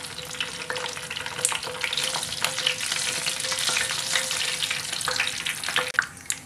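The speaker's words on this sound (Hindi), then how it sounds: "ऑयल गरम है, 4 रेड चिल्ली डालते हैं, हाफ टी स्पून ज़ीरा, थोड़ा सा फ्राई कर लेते हैं।" Four red chillies and half a teaspoon of cumin seeds fry in hot oil, giving a steady, close, crackling sizzle with light stirring throughout.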